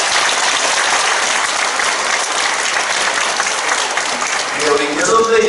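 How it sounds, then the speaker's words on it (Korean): A church congregation applauds during an ordination service as a deacon steps forward, a loud, dense, sustained wash of clapping with voices mixed in underneath. "예, 박수 보내겠습니다."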